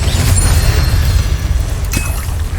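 An Incendio fire spell is cast in Hogwarts Legacy, producing a loud, continuous roaring whoosh with a deep rumble that holds steady for a couple of seconds, close and dominant.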